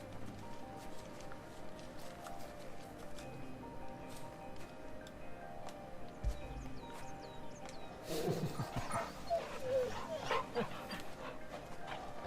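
A dog whimpers and barks in the video game Final Fantasy XVI, the sounds coming through steady background music and ambience, with louder yips in the latter half, moderately near.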